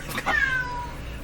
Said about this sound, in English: I've got to deal with my cat.